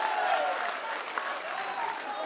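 A big crowd at a farmers' rally in Rajasthan claps steadily in dense, sustained applause, with cheering voices mixed in throughout.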